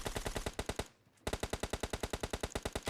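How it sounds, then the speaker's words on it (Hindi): Gunfire in the mobile game PUBG Mobile Lite: rapid automatic bursts of evenly spaced, punchy shots, broken by one brief pause before a long steady burst resumes, loud and close with no talking. "और तभी मैं AWM का शॉट मारने की कोशिश करता हूँ"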